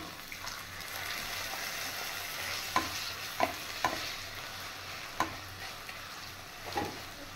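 Chopped ginger and garlic frying in a pan with a soft continuous sizzle, a few sharp stirring clicks and a splash of water added, fairly quiet.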